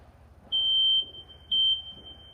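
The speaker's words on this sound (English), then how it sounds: "when you hear the smoke detector going off" A smoke detector sounds two loud, steady high-pitched beeps, each lasting about half a second with a pause between, against a quiet low hum.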